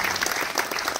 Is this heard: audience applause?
yes